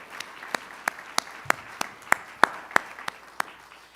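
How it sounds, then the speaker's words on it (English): Audience applause with distinct individual claps standing out in a steady rhythm over a soft wash of clapping, moderately close. "I would like to provide a round of applause to those people for the great thing that they have done"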